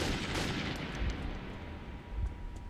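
Pistol gunfire in the video game Metro 2033, a run of sharp shots and booming reports crowding close together over a dense rumbling backdrop, with no talk.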